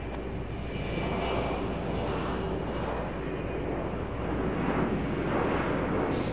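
A jet airliner roars steadily as it takes off from runway 5 right at Raleigh-Durham airport, a broad, sustained engine rumble heard from a distance with no talking.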